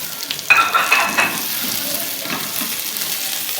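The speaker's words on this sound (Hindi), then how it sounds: "अदरक, सूखी मिर्च और हरी मिर्च, इसे ज़रा अच्छा सा मैं थोड़ा सा भूनूंगी" Ginger with dried red chilies and green chilies sizzles steadily in hot oil in a pan for a masala vegetable khichdi, with a clatter of the spoon at the start, then a continuous close, loud frying hiss.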